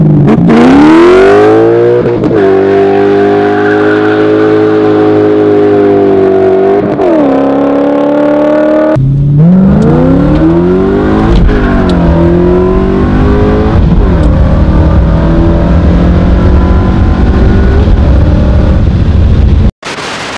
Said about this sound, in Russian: Вот даже я не поленюсь и вставлю вставку выхлопа